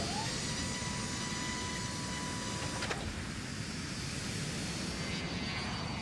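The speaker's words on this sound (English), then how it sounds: "At 11:42, the plane takes off." A steady, loud roar of airliner jet engines during takeoff holds for several seconds with a constant broadband rush and faint whine, no voices.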